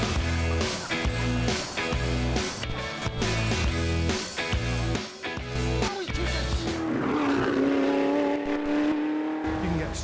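A car driven hard at the Goodwood circuit, its engine loud and close with repeated gear changes and surges of revs, settling into a sustained high note toward the end.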